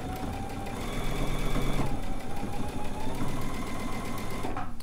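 A sewing machine runs at a steady, fast clatter while stitching a seam on a fabric bucket hat, loud and close, with one brief slowdown midway and a stop at the very end.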